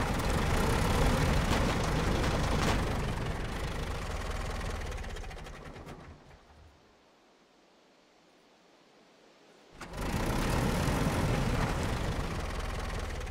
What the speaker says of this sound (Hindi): ओ भाई पानी के अंदर पूरा डूबा है फिर भी चल रहा है ट्रैक्टर।